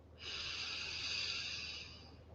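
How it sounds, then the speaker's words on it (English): A single slow, steady inhalation during a guided breathing exercise, a soft airy hiss that swells in and holds for about two seconds, close and alone. "by breathing in"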